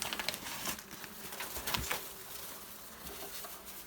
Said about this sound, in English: I've struck bees.